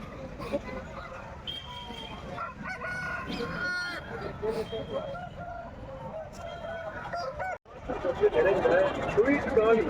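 Hens cluck and roosters crow close by, several birds calling over one another while people talk throughout.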